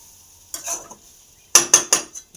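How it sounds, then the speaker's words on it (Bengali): Potatoes frying in a pan, a faint oil sizzle with a few sharp spatula or utensil scrapes against the pan in short bursts, close by. "এখানে তো আলু ভাজা চলছে"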